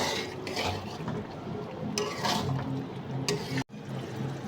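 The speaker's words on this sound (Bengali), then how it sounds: "বেরেস্তা দিয়ে একটু ভালোভাবে নেড়ে নেব।" A spoon stirs egg korma topped with fried onions in a metal pot, making close scraping and clinking strokes with wet, sloshing movement, briefly cut off near the end, no talk.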